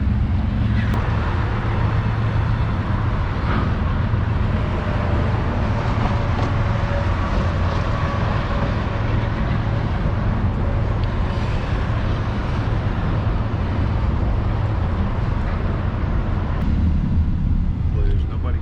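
A train passing over a bridge near the Mississippi River makes a long, steady rumble heard from a distance, blended with nearby vehicle noise and wind.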